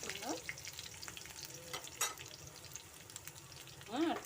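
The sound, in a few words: curry leaves sizzling as they are sautéed in oil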